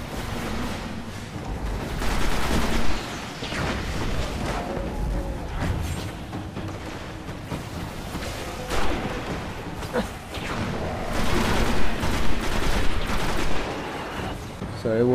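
Gunfire and blasts in the video game Destiny, bursts of shots and impacts scattered through a busy mix, with people talking over the action.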